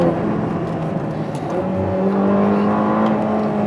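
A Ferrari Portofino's engine revs up steadily, its pitch rising as it accelerates, heard loud and close with a whooshing road and wind noise underneath.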